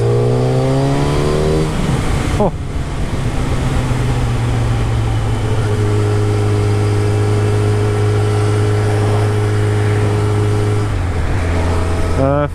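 Yamaha FZ1 1000cc motorbike pulling hard in third gear, a loud, close engine note that climbs in pitch, drops at a shift and then holds a steady drone before rising again, with a brief voice exclaiming.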